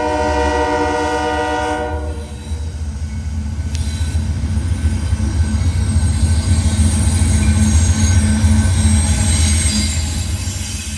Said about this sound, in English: This train is daily Bellevue, Ohio to Irondale, Alabama manifest, with a clean Union Pacific rebuild leading.